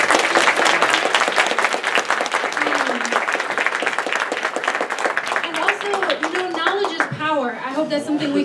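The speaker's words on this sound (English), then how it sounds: "let's give each other a round of applause" Lecture audience at a housing policy session clapping in a steady dense burst, with voices and a chuckle rising through the applause toward the end.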